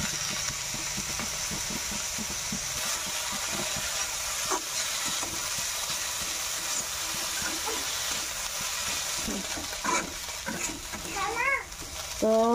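Onions frying in a pan for fish bharta, a continuous hissing sizzle with repeated stirring scrapes and utensil knocks, faint voices in the background toward the end.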